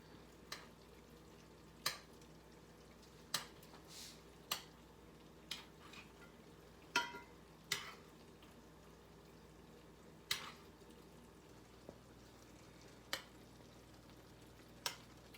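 Pork tenderloin fries in a pan on the stove, a faint steady sizzle broken by a dozen or so sharp pops and crackles spaced irregularly, with no voices.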